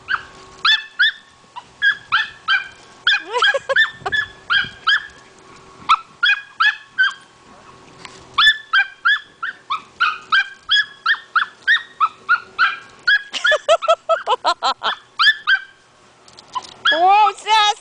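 A Sheltie barks and yips repeatedly while chasing a squirrel outdoors, rhythmic sharp barks close by, with a stretch of rapid frantic yapping and a rising whine near the end.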